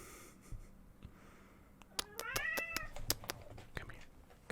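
A cat lets out a short burst of strained, rising meows amid a few sharp clicks and taps, fairly close and otherwise quiet around it.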